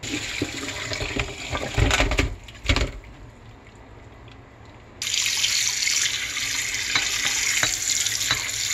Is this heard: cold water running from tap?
yes